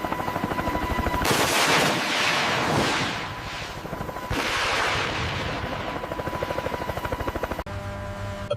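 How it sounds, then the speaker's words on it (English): An AH-64 Apache attack helicopter fires its gun during a live-fire exercise, loud rapid bursts of cannon fire rattling over the thudding rotor and turbine roar, with a brief pause between long strings of shots. "The Apache demonstrates its ability to engage targets rapidly. It fires, then maneuvers away quickly"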